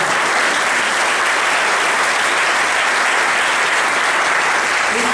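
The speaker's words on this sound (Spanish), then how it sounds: "Esto fue un aplauso." Church congregation applauding, a dense, loud, steady roar of many clapping hands sustained throughout without pause.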